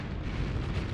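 Sustained heavy explosion rumble as a Star Fortress is destroyed in the space strategy game Starsector, a thick, continuous low roar holding at an even, loud level for the whole moment, without speech.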